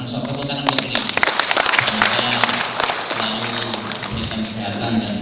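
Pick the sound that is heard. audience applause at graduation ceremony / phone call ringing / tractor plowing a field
audience applause at graduation ceremony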